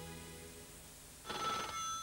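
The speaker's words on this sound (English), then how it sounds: "Nope, there's the phone." A telephone bell rings in a pre-school children's television programme, a short rapid trill starting about midway over a faint background, with no talking.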